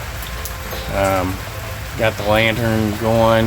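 Steady rain patters on a tin roof at night as a constant hiss beneath someone talking nearby.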